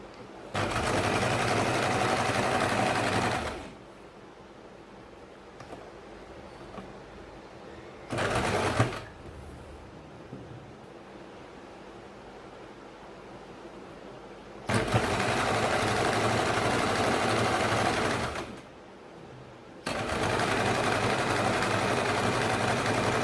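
A sewing machine stitches a baby circle frock in long, steady runs of rapid needle chatter, broken by brief pauses and a short burst, close and clear with no talking over it.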